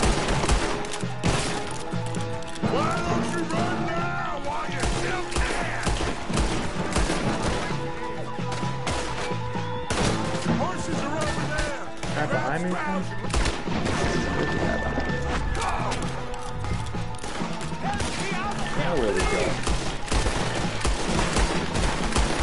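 Gunfire in Red Dead Redemption 2: a dense, continuous barrage of shots, bangs and crashing impacts that fills the whole stretch, loud and busy with no pauses.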